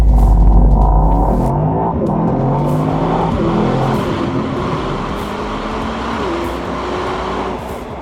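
A Mercedes-AMG GT 63 Pro cruising on the Mumbai–Pune expressway, heard from inside the cabin as a steady, loud engine drone and road rumble that holds evenly throughout.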